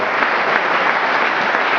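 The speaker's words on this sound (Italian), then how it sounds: "Cos'è che un applauso?" Crowd applause at an Italian local election campaign event presenting a mayoral candidate, a dense, even burst of many hands clapping, loud and close, with no voices over it.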